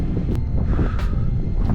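Strong wind buffets the microphone outdoors at an open campsite, a loud, constant low rumble with gusty swells.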